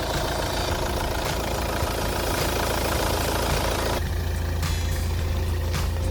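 A 2017 Hyundai Santa Fe The Prime 2.0 diesel 2WD idles with the hood open, giving a steady, loud engine drone. It is joined by a low hum and a brighter rattle partway through, with no talking.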